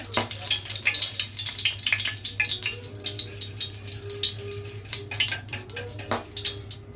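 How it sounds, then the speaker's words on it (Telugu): Hot oil spitting and crackling in an iron pan after water fell into it while making egg Manchuria, a dense steady sizzle broken by sharp pops and spatters, close and moderately loud. "నీళ్ళు పడింది దాంట్లో, అందుకని చిట్టపట్లాడుతున్నా ఆయిల్."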